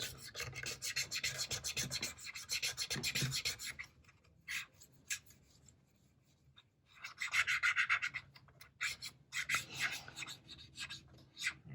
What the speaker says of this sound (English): So we're just cleaning up all the surfaces with the alcohol first